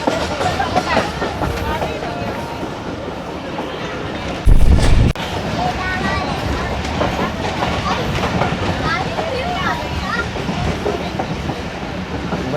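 Passenger train on the scenic route toward Quetta, steady rolling rumble and rail clatter throughout, with a loud burst of noise about a third of the way in; voices talk over the running train.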